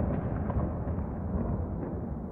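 A large explosion near Kyiv in war footage, a dense, loud, low roaring boom that fills the whole short stretch without any speech.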